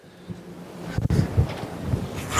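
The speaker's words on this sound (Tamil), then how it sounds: "சரியான காற்று" Strong wind blows across the Amapparai hilltop in Idukki, a steady roar of gusts buffeting the microphone, with a brief dip in the middle and no one speaking.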